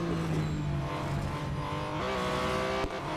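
A race car engine in Real Racing 3 drones steadily while overtaking, its pitch climbing and shifting as it pulls past, loud and continuous.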